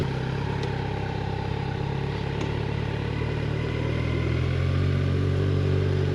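A Kawasaki Z900 naked sports motorcycle engine under way on a road, giving a steady, loud, close drone with a gentle rise toward the end and no talking.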